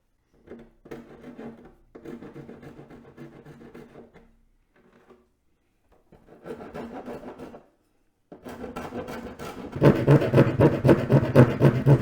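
A hand file rasps back and forth along the edge of a Harley Road Glide Limited windscreen, rhythmic scraping strokes in several bursts separated by pauses, growing louder and faster toward the end.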